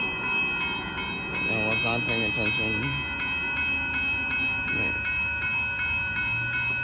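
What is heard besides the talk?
Amtrak Texas Eagle passenger train approaching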